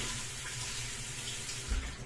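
Water runs from a household kitchen tap in a steady, soft splashing hiss, quiet and continuous, with a brief low thump near the end.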